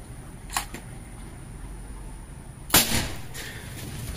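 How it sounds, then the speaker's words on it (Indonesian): A PCP air rifle with a 50 cm Yumaja barrel and a monel shroud, charged to 4000 psi and firing 13.6 grain pellets, fires one loud, sharp crack close by, preceded by a softer click, against quiet outdoor background. "Tembakan ketiga."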